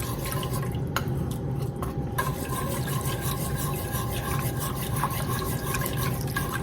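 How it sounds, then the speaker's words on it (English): A whisk scrapes and rubs steadily as flour is worked into a roux in a soup pot for broccoli cauliflower cheese soup, a continuous close, dense scraping texture with small liquid ticks, no talking. "I'm going to whisk this together. Let it cook down."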